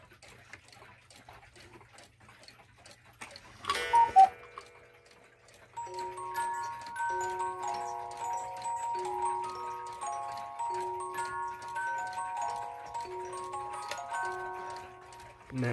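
A musical cuckoo clock plays a gentle, tinkling melody of plucked music-box notes, preceded by a brief mechanical whirring and soft ticking, fairly quiet and close.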